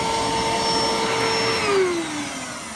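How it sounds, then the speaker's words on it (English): Vacuum cleaner motor running steadily with its brush roller not spinning, a continuous loud whine with tonal hum that drops slightly in pitch near the end, no talking. "does your vacuum cleaner, the roller, not spin when you're turn it on?"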